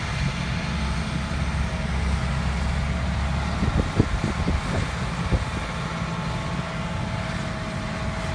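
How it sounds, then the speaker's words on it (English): A tractor runs on a 300-foot sand drag strip at a sand drag racing event, a steady loud engine drone with a burst of sharper pulses midway, over broad outdoor crowd and wind noise. "There goes the tractor"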